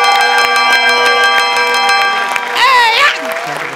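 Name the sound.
bell ringing on a comedy show stage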